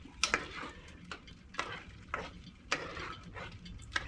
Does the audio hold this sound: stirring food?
yes